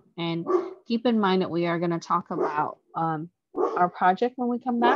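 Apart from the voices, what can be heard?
dog barking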